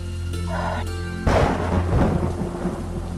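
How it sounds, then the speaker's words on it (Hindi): Steady heavy rain, then a loud crack and rolling rumble of thunder that slowly fades under the downpour, in a drama scene. "बाहर तो बहुत तेज बारिश हो रही है। जी, और बिजली भी बहुत कड़क रही है।"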